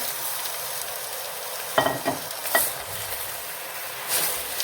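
Tomatoes going into a pan of well-browned onions for homemade ketchup, with a steady close sizzle and a few scraping stirs of a spoon partway through.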